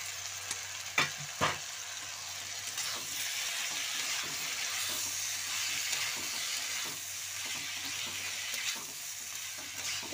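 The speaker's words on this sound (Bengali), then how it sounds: "এবারে দিয়ে দেবো সবজি, উচ্ছে, আলু, বেগুন কেটে রেখেছিলাম সেগুলো" Bitter gourd, potato and eggplant frying in a pan, a continuous sizzle and hiss with occasional stirring scrapes and clinks, close up and without voices.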